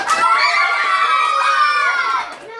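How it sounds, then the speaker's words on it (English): Children at a birthday magic show cheer and shout together in a loud, continuous burst of high excited voices, lasting a couple of seconds before trailing off. "somebody makes an announcement and everybody starts to clap and cheer"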